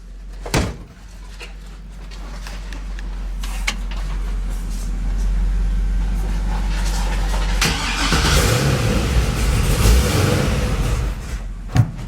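A 1957 Chevy engine idles steadily with a low rumbling drone, close and fairly loud, with a couple of clunks at the start and end.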